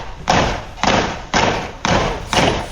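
Gunshots fired into a home at Brighton Le Sands, picked up by a dash cam: five loud, evenly spaced bangs, each with a short ringing tail, about half a second apart.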